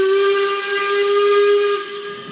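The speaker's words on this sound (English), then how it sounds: "He blew his whistle and started off." A steam locomotive's whistle sounds as it sets off with a maintenance train: a loud, steady, sustained tonal blast with a breathy hiss, holding for about two seconds before dropping off.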